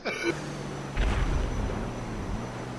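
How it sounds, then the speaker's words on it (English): Explosions in a multiplayer video game, a sharp burst after a short high-pitched effect, then a heavy low rumbling blast that rolls and fades, moderately loud beneath faint game sounds. "The fuck's these explosions?"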